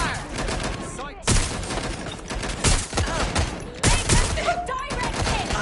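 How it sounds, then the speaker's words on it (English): Bursts of gunfire from the Watch Dogs Legion video game crack out in several loud, sharp volleys, each one followed by a short gap, over a busy rumble of game sounds. "I'm hearing gunfire."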